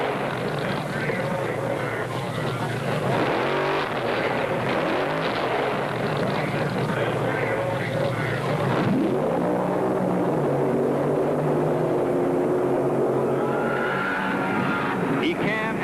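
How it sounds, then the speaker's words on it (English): Funny car drag racers from the 1970s burning out in the staging area, a continuous loud roar of engines that surges and shifts throughout, with a narrator's voice running over it. "It was time for the funny cars, and some wild ones burned out of the staging area."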